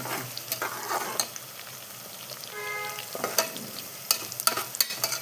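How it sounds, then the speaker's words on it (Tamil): Sliced onions and green chilies sauté in a pan for paneer biryani, a steady low sizzle broken by scraping stirs and sharp clicks of a spatula. "கொஞ்சம் வதங்கட்டும் வெங்காயம்."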